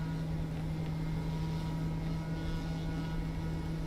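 A floatplane engine in Microsoft Flight Simulator 2024 drones steadily with a strong low tonal hum and broad airy roar, constant and close, with no talking over it.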